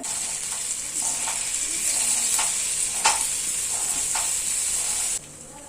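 Paneer pieces sizzling in hot oil, a steady bright frying hiss with occasional spoon clinks and pops, close and alone before it cuts off near the end.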